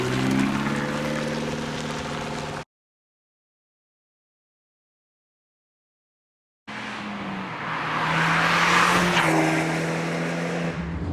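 An Abarth 124 Spider drives along a road, its engine note steady and close, cutting out for a few seconds of silence before returning louder as the car pulls away.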